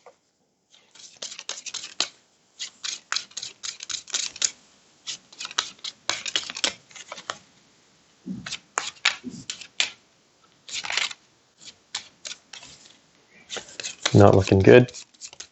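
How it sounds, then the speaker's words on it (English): Cards for the Hellboy board game being shuffled by hand, making repeated bursts of crisp riffling and flicking in an uneven rhythm, close up, with a brief spoken remark near the end. "Discard this card, then shuffle it back in, and then draw another. So we're going to shuffle that back in."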